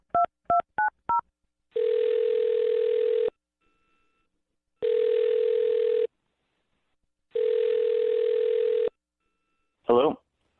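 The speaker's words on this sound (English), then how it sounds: "I'm going to dial this phone number right now." A telephone line plays a quick run of four dialing tones, then three long dial-tone bursts separated by gaps, and ends with a short crackle as the call connects.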